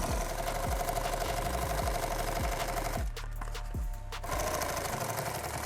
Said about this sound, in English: So go 1 stitch, lift the foot, let the tension off, 1 stitch, lift the foot, and it will make that turn for you.